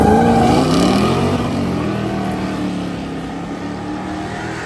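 Classic big-block muscle cars and a Mustang at a drag race, a loud engine roar with rising revs at the start that settles into a steady, sustained drone as the cars pull away.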